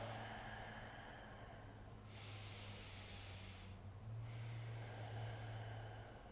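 Slow, deep belly breathing during a box-breathing relaxation exercise: a long airy inhale followed by a sustained exhale, close and soft, with no talking.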